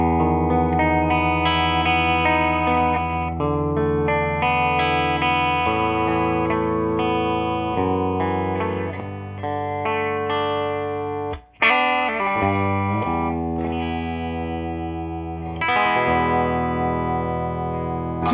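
A Gibson Les Paul 1959 Standard Reissue Murphy Lab plays through its bridge pickup on the clean channel of a Supersonic 22 amp. Ringing chords and single notes sound continuously, with one brief break midway.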